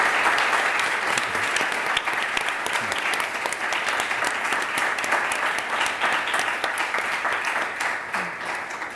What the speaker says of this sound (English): our speakers deserve the round of applause